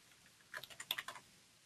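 Quick, faint keystrokes on a computer keyboard, about eight taps in a short burst lasting under a second, otherwise quiet.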